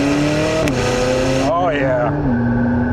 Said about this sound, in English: I'm barely on throttle and it's pulling hard